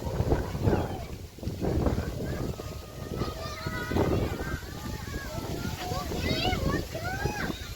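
Steady wind rushes and buffets throughout, with scattered bird calls and distant voices over it.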